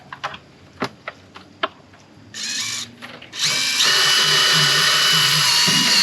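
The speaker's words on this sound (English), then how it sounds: "What I just got through doing is drilling several pilot holes" A power drill bores pilot holes for screws during a culvert drain installation: a few light clicks, then a short whirring burst, then a longer sustained drilling run that stays loud and close.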